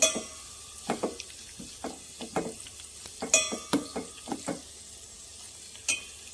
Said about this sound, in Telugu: స్లోగా సిమ్లో పెట్టి మగ్గిస్తాను ఇందులో మెంతులు కరివేపాకు కొంచెం ఇదే గుండె కరగడాకు మందార పువ్వులు వేసాను